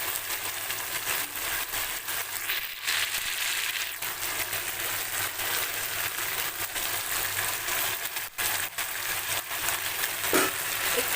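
Pomfret fish cooking in a masala gravy in a pan, giving a steady, moderately loud sizzle and bubbling throughout, with a few brief scraping knocks and no talking.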